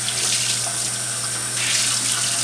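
Cold tap water runs steadily into a kitchen sink for a rinse after scrubbing, a continuous close splashing hiss with no voices.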